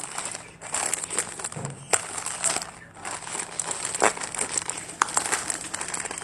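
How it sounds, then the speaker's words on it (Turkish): A crinkly plastic package holding a Simple Dimple fidget toy is torn and handled up close, giving continuous crackling and rustling with several sharp snaps along the way. "Şimdi Simple Dimple açıyorum."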